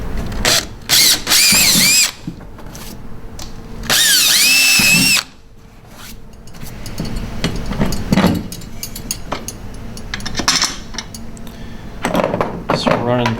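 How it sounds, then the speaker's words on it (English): A power drill drives 1/4-20 fasteners through a kayak's Torqeedo motor bracket on a Wilderness Systems Recon 120, with two loud, close whirring bursts followed by quieter clattering handling noises. "So we're running 1/4-20 fasteners down through the bracket."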